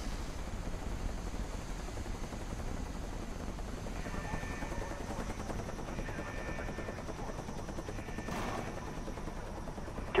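A care package helicopter in the Call of Duty Black Ops video game drones steadily and at moderate distance, with a continuous rotor wash, faint gunfire and short electronic announcement tones over a noisy battlefield background.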